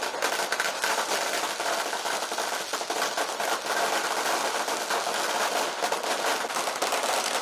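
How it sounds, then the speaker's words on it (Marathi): Fireworks burst in the sky during a state-wide celebration after an oath-taking ceremony, a loud, unbroken barrage of rapid crackles and pops that fills the whole stretch. "आकाशात देखील अगदी नयनरम्य अशी फटाक्यांची आतषबाजी करण्यात आली"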